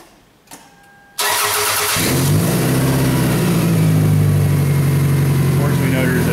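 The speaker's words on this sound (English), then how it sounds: "I'll turn the exhaust fan on after it starts." A Toyota Camry engine cranks and catches in a garage, then runs loud and steady, its roar rough from a major exhaust leak. A voice speaks over it.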